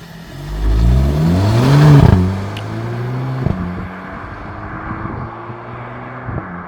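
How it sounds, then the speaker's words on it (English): A VW Polo GTI engine revs up hard, its pitch climbing and falling, then settles into a lower idle with a few small pops. "let me show you how this car sounds like when it Vrrphaas. Just listen."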